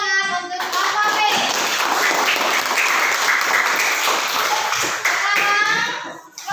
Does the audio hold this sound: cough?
no